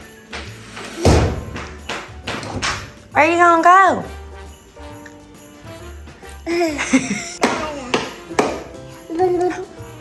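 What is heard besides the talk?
hammer striking a treadmill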